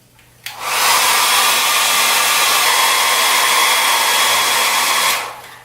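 A hair dryer blows steadily at close range for about five seconds, drying paint on a canvas, with a click at switch-on and a smooth, loud whoosh that cuts off at the end.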